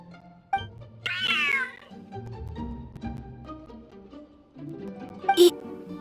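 A cat meows in the Genshin Impact video game, one clear rising and falling meow followed by a shorter cry, set over soft in-game music.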